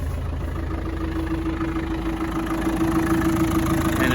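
A 1995 Land Rover Defender 90 with the 300Tdi diesel idles steadily nearby, a smooth, even low rumble with a constant hum and no revving, heard alone.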